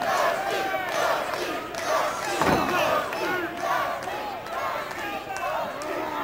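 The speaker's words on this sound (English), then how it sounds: "Listen to this crowd." A roaring pro wrestling arena crowd cheers and yells during a bull rope match between two wrestlers, a continuous loud wall of shouts and whistles with a commentator's voice over it.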